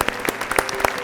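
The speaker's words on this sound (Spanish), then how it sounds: "Lo vamos a hacer con un fuerte aplauso como cada mañana." Studio audience applause on a Spanish-language morning health talk show, a short burst of dense clapping heard up close.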